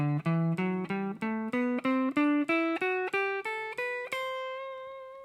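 A major scale is played on guitar three notes per string, with about fifteen evenly spaced ascending notes picked one by one, the last note left ringing; clear and close, fairly quiet, no talking.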